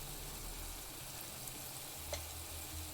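Chili powder frying in oil in a pan for an onion pulusu, a steady soft sizzle with a faint clink midway, close and continuous with no talking.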